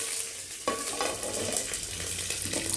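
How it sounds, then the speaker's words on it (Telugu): Three dried red chillies fry in a little oil for tomato chutney, a close continuous sizzle with a few sharper pops and stirring scrapes, no speech. "ఇప్పుడు కొంచెం ఆయిల్ వేయాలి. ఇదండి 3 ఎండుమిర్చి వేసాను."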